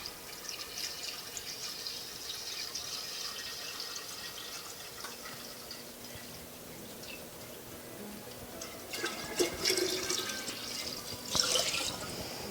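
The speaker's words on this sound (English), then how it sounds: "So I will pour this in." Cooled, concentrated kombucha tea poured into a container: a soft, steady liquid trickle and splash that grows louder and more splashy toward the end.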